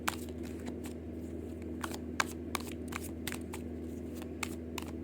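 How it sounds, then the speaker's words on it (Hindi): Tarot cards are shuffled and drawn with quick papery flicks and snaps, sparse and irregular, close but fairly quiet over a steady low room hum, with no one talking. "कार्ड देख लो निकलने में कितना टाइम लगा रहे हैं"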